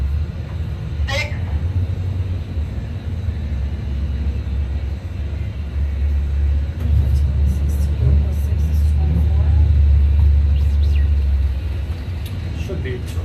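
Race cars run at an autocross event in a steady, loud engine roar and rumble, with the pitch rising and falling as cars accelerate, and it stays continuous under a brief muffled voice.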